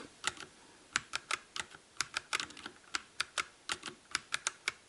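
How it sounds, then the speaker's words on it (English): Typing on a Havit mechanical keyboard with a numpad, a steady stream of crisp, close keystroke clacks in an uneven rhythm, alone and moderately quiet. "Now is the typing test for the Havit mechanical keyboard."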